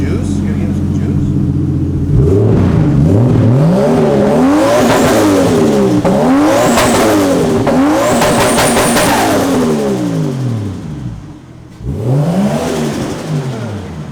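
Nissan Skyline R34 GT-T engine revved hard several times in succession, loud rising and falling bursts close by, with people talking and cheering over it.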